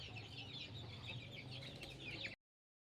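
Chickens clucking close by on a Punjabi poultry farm, a busy chorus of overlapping clucks and calls that runs steadily and then cuts to silence near the end.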